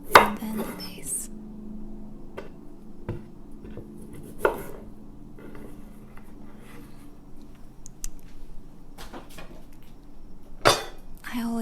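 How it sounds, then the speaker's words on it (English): A knife chops the ends off carrots on a cutting board, a few sharp, distinct thunks spaced several seconds apart, with quieter kitchen handling sounds between them and no talking. "first chopping off the ends and then the base"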